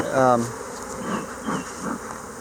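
Bees buzz around an opened hive with a steady, close drone, swelling in brief waves, while a faint voice murmurs underneath.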